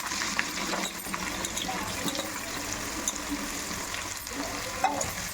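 Green chillies and onions fry in hot oil in a pan for an egg biryani, giving a steady broadband sizzle with occasional stirring scrapes and small pops throughout, close and moderately loud, with no talk.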